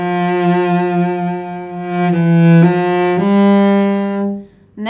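Solo cello playing a slow phrase from a song, a few sustained bowed notes changing pitch in sequence, close and clear with a smooth, continuous tone and no voices.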